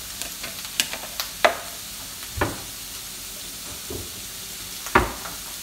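Oil sizzles steadily in a frying pan while salsa borracha is cooked, a constant close hiss broken by occasional clinks and scrapes of stirring.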